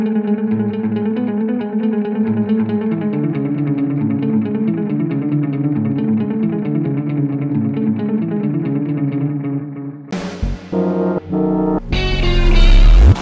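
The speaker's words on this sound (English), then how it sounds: "the delay pedal adds a delayed sound to your guitar playing" Electric guitar played through a TC Electronic Flashback 2 delay pedal: sustained, layered chords with echoing repeats ring steadily and loud for about ten seconds, then give way to abrupt, choppier tones near the end.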